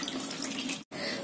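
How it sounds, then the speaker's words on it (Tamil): Tap water runs steadily while toor dal lentils are washed, giving a dense, continuous hiss and splash that cuts out briefly for a moment near the end. "இந்த பருப்பை நல்லா தண்ணி ஊத்தி கழுவிருங்க"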